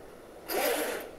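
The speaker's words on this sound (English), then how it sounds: "And there's the zipper." A zipper being pulled closed on a boat's Bimini top in a marina, one smooth continuous zip of about half a second, close and clear against quiet background.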